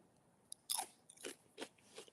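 A crunchy snack bitten and chewed close up at a Pinot Gris wine tasting: one sharp bite followed by several quieter crunching chews, fairly soft, with no talking.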